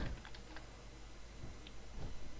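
Typing on a computer keyboard, with scattered soft key clicks at an uneven pace over a low steady background hum, quiet and close, with no talking.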